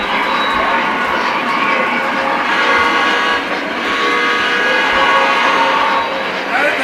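A CTA train rumbles past with a steady broadband roar and rail hum, loud and continuous throughout, with talking faintly mixed in.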